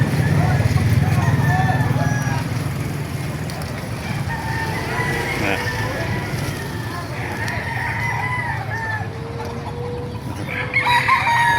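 Chickens clucking and roosters crowing repeatedly close by at a chicken market in Bocaue, Bulacan, with a busy, noisy outdoor background throughout.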